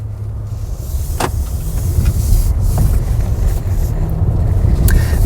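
A 2018 Acura RLX Sport Hybrid SH-AWD accelerates from inside the cabin, a steady low engine and road drone rising slightly in loudness, with wind rush and a couple of brief clicks, no talk.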